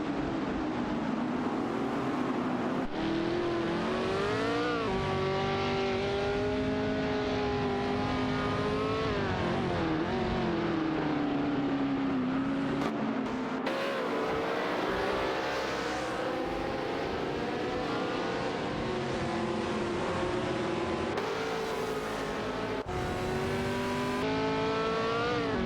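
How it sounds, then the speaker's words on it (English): Race car in a racing video game accelerating away, its engine note rising and falling in loud, continuous revving sweeps with shifting pitch, with steady background sound throughout. "Racing car dashing away."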